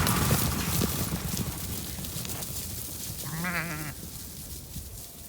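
Sheep bleating out in the open among livestock: one clear, wavering bleat stands out in the middle over a constant rustle and shuffling of the flock, with no talk.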